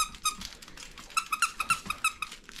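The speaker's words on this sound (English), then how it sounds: "You got a squeaker?" A dog's squeaky banana toy gets squeezed again and again in quick, uneven bursts. The squeaks are fairly quiet and close, with a faint bit of background movement.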